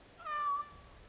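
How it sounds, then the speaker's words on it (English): A single clear meow from a cat in the video game Dragon Age Awakening, short and close, with no other sound around it. "Is that okay with you, kitty?"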